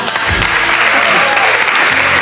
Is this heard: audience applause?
yes